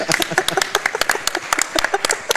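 A small group claps after a speedrun of the game Bastion finishes at a Games Done Quick marathon, sparse distinct hand claps in an uneven rhythm, fairly close and lively.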